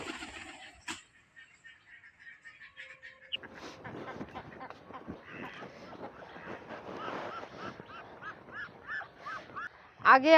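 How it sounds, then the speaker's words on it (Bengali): Khaki Campbell ducks by a pond quack in scattered nasal calls that grow busier and louder over time, mixed with faint splashing and no talking. "এই যে দেখুন আমার হাঁসগুলো ছেড়েছে, এই যে পুকুরে চড়ছে।"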